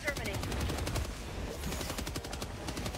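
Sustained rapid automatic gunfire from a weapon in the video game Helldivers 2, a dense continuous burst of shots running for several seconds, loud and close with a low rumble underneath.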